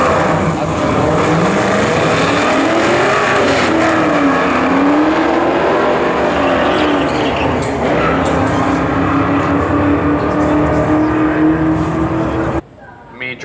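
Two cars, a white Ford Mustang 5.0 and a Mach 1, drag racing at night: a loud, sustained engine roar with a rising and falling pitch, heavy and continuous, that cuts off abruptly near the end.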